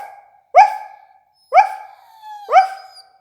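A person imitates a dog barking, giving three separate loud, close bark-like calls with a short pause between each and no other sound behind them.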